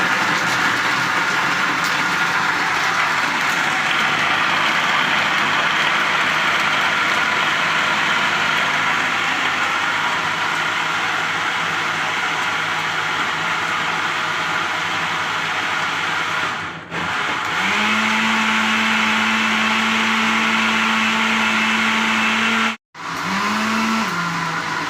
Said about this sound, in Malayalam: പുതിയ മിക്സി സ്റ്റാർട്ടാക്കുകയാണ്.